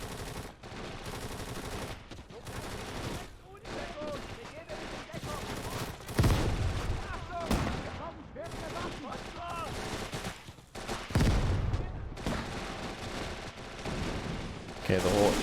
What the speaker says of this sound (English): Friendly mortars are now finally engaging the trench.